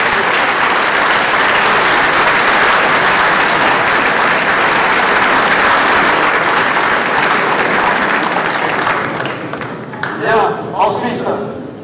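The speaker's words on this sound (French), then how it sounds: "je vais vous demander de faire un tonnerre d'applaudissements pour le président du Grand Paris Grand Est" Sustained, loud audience applause at a mayor's New Year greetings ceremony, dense clapping from a large crowd that holds steady for about ten seconds, then thins out as a voice begins speaking.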